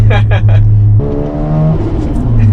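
A Mazda RX-7, a classic Japanese sports car, sends out a steady, close engine drone that holds through the second half, after a brief voice at the start, with the car still faintly audible underneath.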